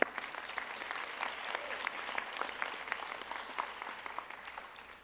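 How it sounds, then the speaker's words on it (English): An audience at a hospital residency award and graduation ceremony claps for Jerry Dunleavy, a fairly quiet but steady patter of many hands with individual claps standing out, continuing throughout. "I'd like to give him an applause"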